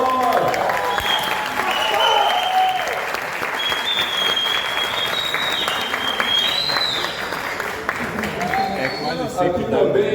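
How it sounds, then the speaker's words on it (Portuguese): Sustained, loud applause from the audience at an aerospace engineering student talk show, many hands clapping continuously with crowd chatter and cheering mixed in throughout. "Salve palmas!"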